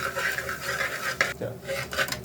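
Crumbled bread churi being stirred in a pan with a utensil, steady scraping and clinking of metal against the pan, close and continuous with a few louder knocks.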